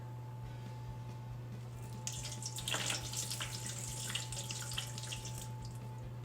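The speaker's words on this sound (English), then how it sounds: "Now we're gonna put in 2 cups of boiling water." Boiling water poured into a turkey roasting pan splashes and trickles close by, starting after a quiet moment and running unevenly over a steady electrical hum.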